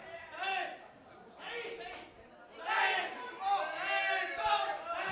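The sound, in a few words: crowd cheering at a billiards championship break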